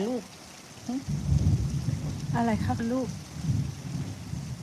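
Steady heavy rain roars throughout, with a voice speaking and a voice calling out over the downpour.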